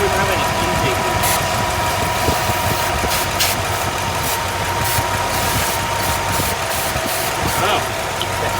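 A 1965 Ford Ranchero engine idles steadily at close range on its first start after valve cover and fuel line work, a continuous even rumble with faint voices underneath.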